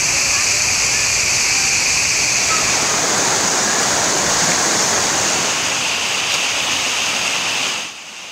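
A river rushing over small overflowing dams, a loud, steady broadband roar of water that continues unbroken for several seconds before dropping away at the end.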